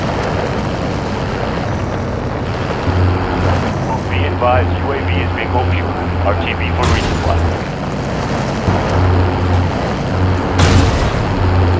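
An airborne UAV drone passes overhead in the Call of Duty Warzone battle royale, a steady low rumbling hum with shifting wind-like noise. Indistinct game voices and effects sound over it, and brief sharp bursts break through near the middle and end.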